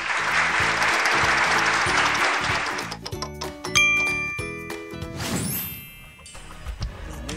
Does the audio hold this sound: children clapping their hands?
yes